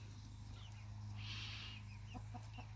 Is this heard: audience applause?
no